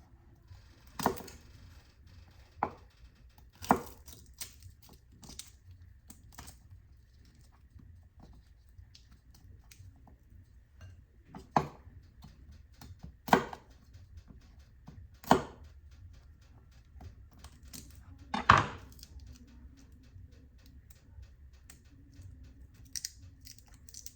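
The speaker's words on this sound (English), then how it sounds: "Just a good vibe when you're cutting up all these vegetables, man." Vegetables are chopped with a knife, and only scattered, sharp knocks on a board are heard, spaced several seconds apart, over a quiet, low background hum.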